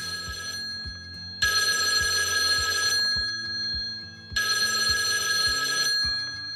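A telephone bell rings in two long bursts separated by a pause, loud and close, with a steady low rhythmic pulse running beneath it throughout.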